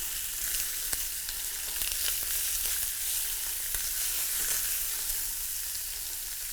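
A sous vide pork chop sears in a hot pan with a steady, loud sizzle and crackle that holds throughout, with occasional small pops and no voices.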